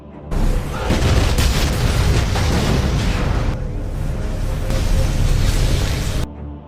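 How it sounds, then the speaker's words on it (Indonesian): A loud, sustained bomb explosion roar destroying a building, with crackling debris, rumbling heavily for several seconds before cutting off abruptly. "bom meledak dan menghancurkan seluruh bangunan"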